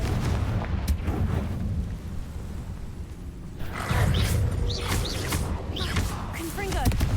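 A Confringo spell blast explodes in Hogwarts Legacy, with booming impacts and whooshing bursts mixed with game effects and rumble, recurring unevenly over several seconds alongside a voice.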